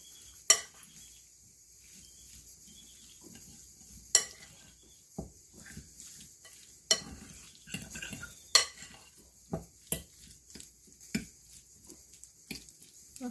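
Meat is mixed by hand with salt, pepper and cornstarch in a bowl, giving soft, quiet stirring and squishing with sharp clinks of a utensil against the bowl scattered throughout.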